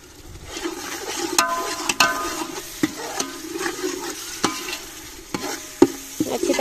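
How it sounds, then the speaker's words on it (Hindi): Spices and chillies sizzle and fry in a pan with a little water while a utensil stirs and scrapes in sharp, irregular knocks, close up, with no talking. "हुण इन्हां नू अच्छी तरह भुन लैने"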